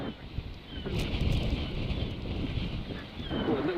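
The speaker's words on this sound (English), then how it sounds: "Oh, a little gust." Wind gusts across a links golf course and rumbles steadily in the microphone for several seconds, loud and close.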